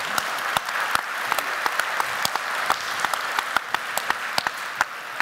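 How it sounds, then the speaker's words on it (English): A room of people applauding steadily at a forum, sharp individual claps standing out from a dense, continuous patter that carries on throughout. "Vous pouvez applaudir Nadia, Murad, merci."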